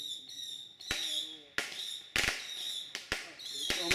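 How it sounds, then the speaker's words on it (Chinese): Firecrackers going off at a Lunar New Year celebration in a village, several sharp loud bangs in irregular succession over a steady high-pitched tonal background with faint voices. "我们先听炮声好了"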